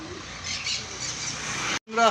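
Bird chirps and tweets fill a busy, noisy pet bird shop, a steady chatter of many small birds such as cockatiels, lovebirds and pineapple conures, with some voices talking underneath.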